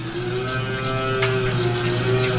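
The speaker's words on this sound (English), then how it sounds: "is feeding his cows" Cows on a farm at early-morning feeding time, one long sustained moo held steadily near the microphone, with faint farm background noise and no talk.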